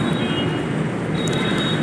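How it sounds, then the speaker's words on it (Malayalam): Steady low rumble of a Delhi Metro train in motion toward Red Fort, a continuous loud drone with a faint high whine running through it. "എനിക്ക് പോകാനുള്ള മെട്രോ ആണ് ഞാനതിലേക്ക്"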